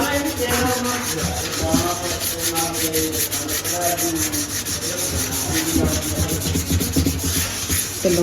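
Sandpaper scrubs hard against a blackened kitchen cooking pot in steady, rapid back-and-forth strokes, loud and close, with a continuous gritty rasp and no talking.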